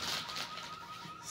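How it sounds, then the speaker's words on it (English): A car alarm in the horror video game Visage gives a steady, wavering electronic tone for a brief moment, fairly quiet, with no talking over it. "let me just get this car alarm off."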